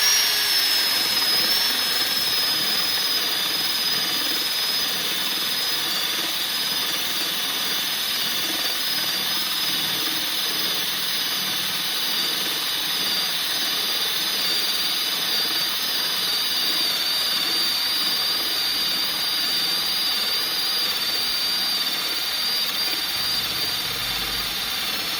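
Gtools GT12P drill driver on speed 2 boring with a 1-inch (25 mm) spade bit, a steady, loud, continuous high-pitched whine held close for the whole stretch without a break.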